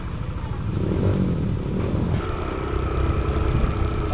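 A Yamaha Aerox 155 motor scooter riding along a rough riverside route gives a steady, close engine drone mixed with wind buffeting and clatter.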